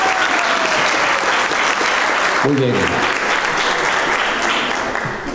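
Audience applause fills a solemn civic session marking Girón's 199th cantonization anniversary, a dense steady clapping that runs throughout while a speaker talks over it briefly.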